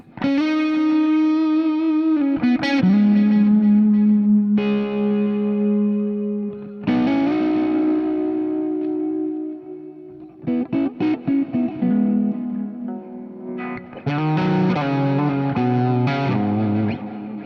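Clean electric guitar chords and picked notes washed in a shimmering chorus, with long reverb and echoing delay trails ringing between phrases.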